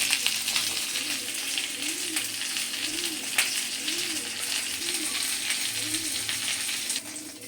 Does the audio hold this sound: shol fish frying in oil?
yes